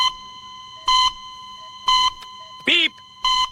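A parrot in a hospital delivery room imitates electronic beeps: four evenly spaced, clear tonal bleeps over a steady background hum, with a brief squawky chirp between the last two.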